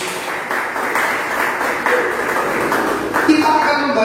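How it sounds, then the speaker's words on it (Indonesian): A church congregation clapping during an online worship service, a loose wash of hands beneath a speaking voice, with faint tones ringing near the end. "Tepuk tangan bagi Yesus"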